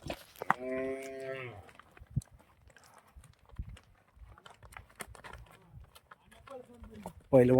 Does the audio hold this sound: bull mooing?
yes